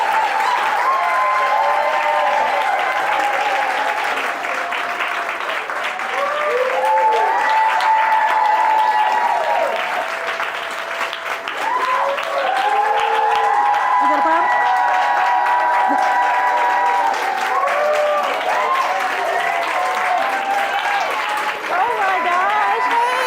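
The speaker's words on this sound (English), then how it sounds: "Give a round of applause for the Arlan Hamilton." Steady, loud audience applause from a large indoor crowd fills the whole stretch, with dense clapping swelling slightly in waves and faint cheering mixed in.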